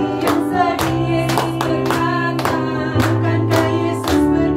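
Regular claps punctuate a cheerful Indonesian Sunday school song at an online children's church service, crisp and evenly spaced about every half second beneath singing and instrumental accompaniment.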